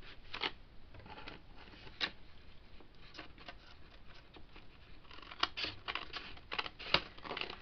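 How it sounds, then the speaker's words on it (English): Scissors snip through a piece of purple craft material in a series of close, crisp, irregular clicks and cuts, with a few sharper snaps near the end. "So I'm just going to use my scissors and try and match it up."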